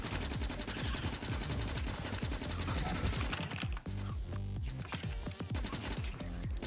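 Rapid machine gun fire in Factorio multiplayer, a dense stream of close, loud clattering shots running nearly the whole time over other game noise.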